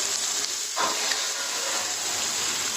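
Onions dry-roasting to golden brown in a pan give a steady, soft hiss with a faint sizzle that holds evenly throughout, with no talking.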